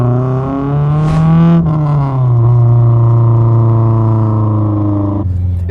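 Honda Civic Type R EP3 engine fitted with a Spoon N1 exhaust holds a loud, steady droning rev with raspy harmonics, rising briefly then settling into a sustained hum close to the microphone.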